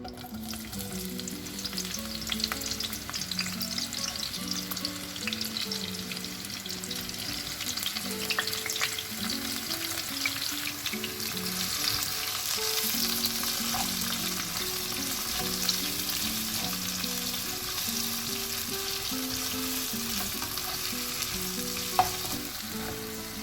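Big onions, Holland onions and chilli sizzle steadily in leftover chicken-frying oil, a continuous close frying hiss with occasional stirring scrapes throughout, no talking.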